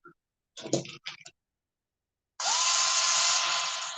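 Screws are driven into RC crawler tires with a power tool, first several short clicking and handling bursts, then a pause, then a steady close whirring drill run with a rising tone.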